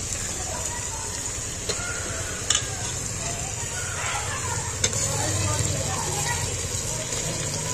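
Mutton pieces are stirred and fried in a pan, with a continuous sizzle under scraping strokes and a few light clinks of a utensil.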